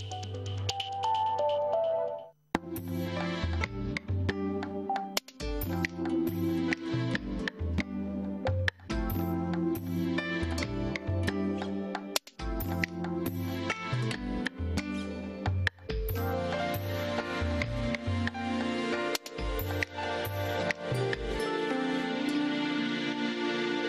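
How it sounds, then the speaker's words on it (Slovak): A radio news-flash jingle plays for over twenty seconds, a busy, bright electronic melody with sharp rhythmic stabs and brief pauses, loud and continuous with no talk over it. "Jingle ohlásil bleskovku"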